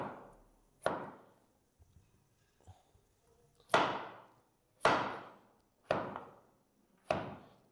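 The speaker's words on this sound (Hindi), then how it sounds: "मैं इस तरीके से आलू काट लूंगा। आलू मैंने काट लिए इस तरीके से" A knife chops through thick potatoes for french fries, six sharp loud cuts against a board at uneven intervals with quiet pauses and small handling taps between.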